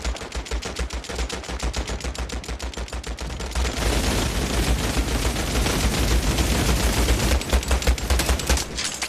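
Rapid gunfire in a World War 2 video game, dense bursts of machine-gun and rifle shots that run continuously and grow heavier midway, with no talk.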